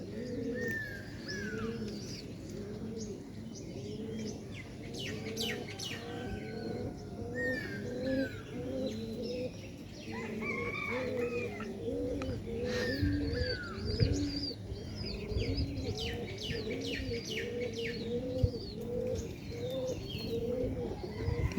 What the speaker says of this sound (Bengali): কাছাকাছি গিয়েছে কিছু কবুতর এই এক হয়েছে